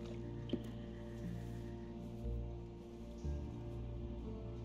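Water running and dripping in The Walking Dead video game, a steady wet trickle with soft drips and splashes continuing throughout, fairly quiet and heard alone.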